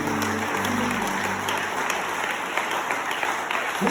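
A church congregation bursts into loud, sustained applause and cheering for the Lord, dense clapping filling the room, with a voice briefly audible at the start.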